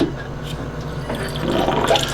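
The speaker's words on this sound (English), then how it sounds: "You know what happens if you lift these up? Water comes in." Water trickling and gurgling into a sailboat hull through a lifted drain bung, a steady close wash of liquid that swells slightly louder toward the end.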